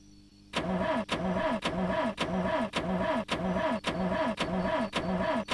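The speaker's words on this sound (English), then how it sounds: "let's see if I can even ignition this car" A car engine cranking without catching in the video game The Long Drive: a starter motor grinds in nine even, regular pulses about half a second apart, loud and close, with no talk.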